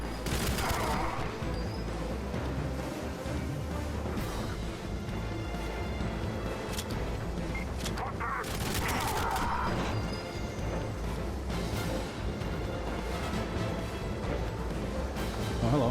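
AK-47 fire in the Wii version of GoldenEye 007 comes as repeated bursts of rattling shots with crashing impacts, dense and loud over a continuous busy game soundscape.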